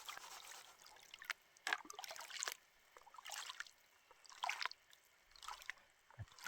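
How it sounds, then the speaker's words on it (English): Gold panning in a cold stream in grizzly bear country gives faint, intermittent sloshes and trickles of water swirled in the pan, with quiet pauses between bursts. "I can pan for gold"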